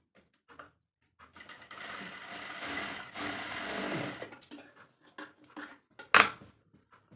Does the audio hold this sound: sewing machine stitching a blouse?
yes